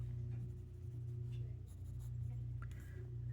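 A colored pencil shades a fashion illustration on paper with soft, scratchy back-and-forth strokes, quiet and close, over a low steady hum.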